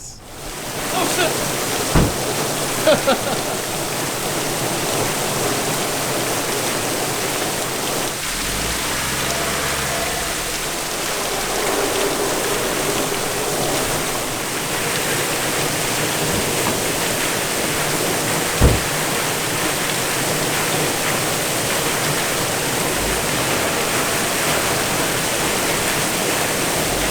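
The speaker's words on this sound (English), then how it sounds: "So this waterfall is dripping really on the road here," A waterfall pours onto a road at Achada da Cruz, Madeira, in steady heavy splashing on the hard surface, a dense hiss that continues throughout with a few faint knocks and voices underneath.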